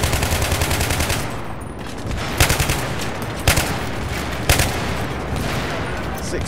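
Dense, sustained gunfire in the Battlefield 3 video game, with rapid automatic bursts and several sharper, louder shots standing out over a constant crackling barrage.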